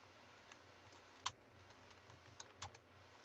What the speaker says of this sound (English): I'm just typing something in the chat.